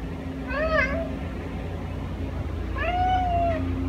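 A cat meows twice indoors, one short call near the start and a longer drawn-out one a couple of seconds later, close and clear over a steady low hum.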